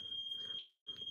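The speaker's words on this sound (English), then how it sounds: "Somebody set the smoke alarm off." A household smoke alarm shrieks with a loud, steady high-pitched tone, cuts out briefly for a moment of near silence, then resumes at full strength.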